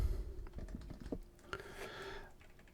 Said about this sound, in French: Je tape donc mon texte.